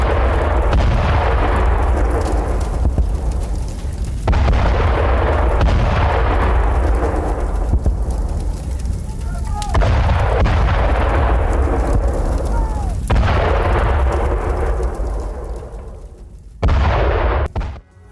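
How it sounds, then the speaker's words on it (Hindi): A Russian tank blowing up after a Ukrainian drone strike, heard as a series of loud booming blasts with long rumbling decays, several heavy detonations in a row followed by a final sharp burst. "यूक्रेनी हमले के बाद रूसी टैंक में जोरदार विस्फोट"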